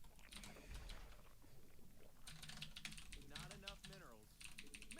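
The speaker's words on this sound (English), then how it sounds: "Maybe you guys will listen to some nice keyboard ASMR." Computer keyboard typing, quick irregular clicks of keys at low level, with a voice talking softly over part of it.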